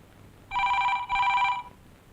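A telephone rings in two close, bright electronic bursts, clear and fairly near, with no voices over it.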